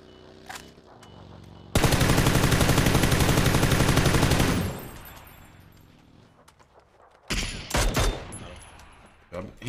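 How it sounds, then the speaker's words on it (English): Gunfire in the video game PUBG on the Miramar map: a sustained loud automatic burst lasting a couple of seconds, then quieter stretches and a few more close bursts of shots near the end. "He was getting shot at?"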